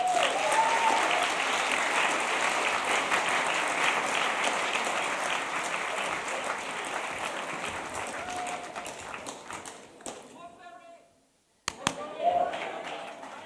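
Sustained applause from an audience at a Woodberry Forest School event greets speakers coming onto the stage, a dense even wash of clapping that slowly thins and drops away near the end before a brief burst returns.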